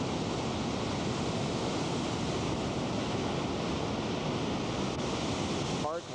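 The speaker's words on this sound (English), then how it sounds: "very impressive waterfall." Steady broadband roar of a large waterfall in parkland near Athens, Greece, rushing continuously and loudly at close range, with no talking over it.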